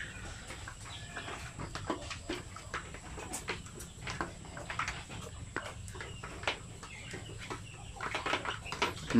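Two-month-old chickens cluck and peep in scattered bursts, a busy flock close by over a low background hum.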